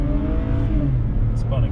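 A BMW launches hard from a standstill with its tires spinning. The engine roar is loud and close, rising briefly over a short burst.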